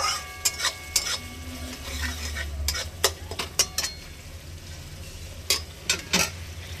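Spice masala sautéed in oil, with rhythmic metal spatula scrapes and clinks against the pan over a low, steady sizzle, close by with no talking.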